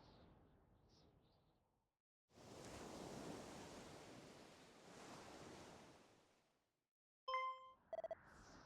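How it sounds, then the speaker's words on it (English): Ocean waves surge and wash in long soft swells in the Dragon Quest II HD-2D Remake game, two broad rushes of surf separated by a lull, followed by short chiming game sounds. "I hear waves."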